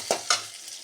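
Sliced onions with cumin seeds fry in a pan. Two quick spatula strokes scrape across it over a soft hiss of sizzling oil, close and brief, with no voices.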